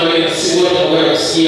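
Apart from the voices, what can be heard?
No everyday noises stand out.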